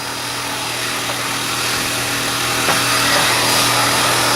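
Heat gun blowing a steady, loud rushing hiss while held back from the plaster coating on carved foam board, with a faint hum running beneath and one small tap near the end.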